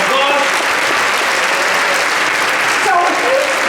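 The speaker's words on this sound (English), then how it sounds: "So let's give them a big round of applause." Loud, sustained applause from a crowd, dense clapping filling the whole stretch without a break.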